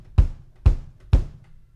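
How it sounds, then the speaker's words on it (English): Three punchy kick drum hits from a beat-making tutorial, deep and booming with a sharp attack, evenly spaced about half a second apart and heard alone. "We're going to have our kick, which is down here. That's the low sound."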